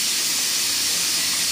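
Dal tempering poured into hot oil gives a steady, loud sizzling hiss that holds evenly throughout, with no voices.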